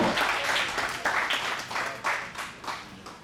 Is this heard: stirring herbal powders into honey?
no